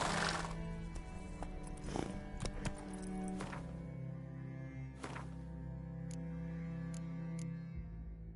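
Horse galloping and neighing in The Witcher 3 on PS5. Quiet, rhythmic hoof clatter continues throughout, with a few sharp higher accents scattered over a low steady rumble.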